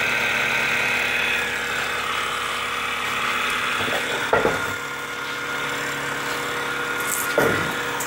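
A router cuts along the edge of a flywheel mold pattern made for brass casting, giving a steady, close, continuous whine with a few brief louder catches as the bit bites.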